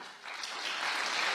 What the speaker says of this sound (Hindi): हंसे भी और ताली भी बजाई।